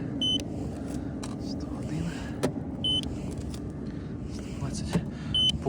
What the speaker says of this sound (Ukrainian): не пугайтесь по звуку, це в нас вебаста. Гріє салончик.